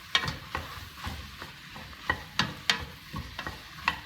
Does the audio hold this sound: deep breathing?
no